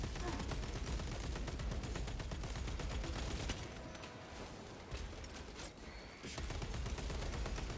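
Rapid bolt rifle fire in Warhammer 40K Space Marine 2, extended-mag rapid fire during a Lictor boss fight; a loud continuous stream of shots that briefly eases off midway before resuming at full intensity.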